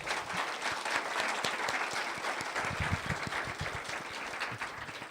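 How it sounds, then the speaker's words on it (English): An audience at a tech conference's lightning talks session applauds the volunteer staff with full, continuous clapping that stays fairly even and close for the whole stretch. "please give them a big applause."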